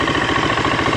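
A Husqvarna FE350S motorcycle engine idles while warming up, giving a steady, close, pulsing rumble with no voices.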